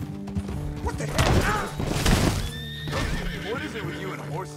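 In Red Dead Redemption 2, a horse whinnies loudly amid hoof clatter and thumping, with people talking over the commotion throughout.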